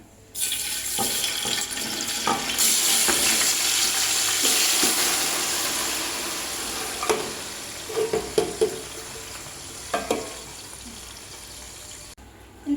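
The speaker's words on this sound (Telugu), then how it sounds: "ఇది ఆనియన్స్ ఫ్రై చేసుకున్న ఆయిల్ అండి అందుకే చికెన్ వేసేసుకుంటున్నాను" Chicken pieces fry in oil already used for browning onions for biryani, giving a loud, steady sizzling hiss that fades toward the end, broken by a few sharp stirring knocks.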